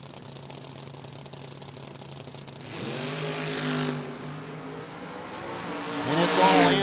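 Drag racing cars on a strip at a 660 no-box shootout rev up and launch hard in two loud surges, heard from a distance over a steady idling rumble, with faint crowd or announcer noise around.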